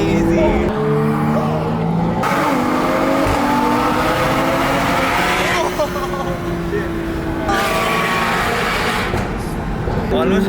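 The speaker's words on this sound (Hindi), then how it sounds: "Almost drag race हो गई थी" Loud engines rev and roar continuously as cars, one of them a Porsche, nearly drag race through a street supercar scene in Gurgaon, with shifting engine pitch throughout and voices talking over the noise.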